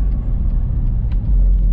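A supercharged 2017 Ford F-150 crew cab fitted with a Gen5 Whipple runs on a chassis dyno in third gear, giving a steady, loud, low engine rumble that swells slightly near the end.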